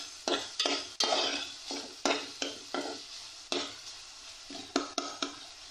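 Boiled vegetables being stir-fried in a pan for a chicken vegetable egg sandwich, with a light sizzle under repeated sharp scrapes and clinks of a utensil against the pan at an irregular pace, close and alone.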